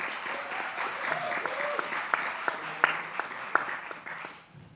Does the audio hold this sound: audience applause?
yes